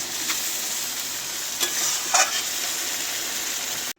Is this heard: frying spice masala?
yes